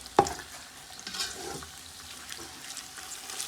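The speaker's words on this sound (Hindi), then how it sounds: "5 मिनट तक हम इसे ऐसे ही भूनेंगे" Chicken noodles frying in a pan, giving a steady low sizzle with a sharp clank of a utensil near the start and faint scraping stirs after, with no voices.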